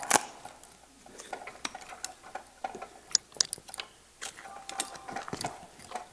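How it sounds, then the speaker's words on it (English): A knife and saw work through a beef front shank on a half beef carcass, making sharp, irregular scraping and cracking clicks at close range, with no voices. "So I'll cut through this piece to get the front shank off."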